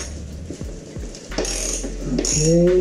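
A ratchet wrench clicks as it loosens a 17 mm motorcycle axle bolt on a Suzuki Katana street fighter build. A few spaced ratchet clicks are followed by rapid metallic cranking, close up and fairly loud.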